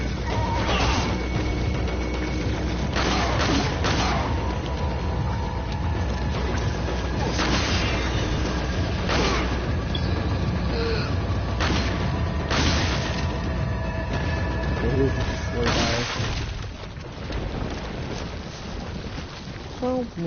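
Gunfire from a standard weapon in the Resident Evil 4 video game, a string of sharp broadband bursts spaced a few seconds apart over a steady, dense game background of wind-like noise and clatter, with no talking.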